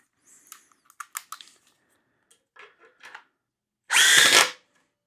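A Milwaukee M18 Surge Gen 2 hydraulic impact driver runs in one short loud burst of about half a second, following scattered light clicks and taps from handling the tool.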